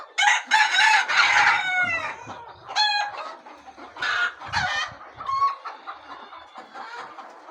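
Several desi hens cluck and squawk loudly close by in busy, overlapping bursts, with a rooster-like call mixed in; no speech.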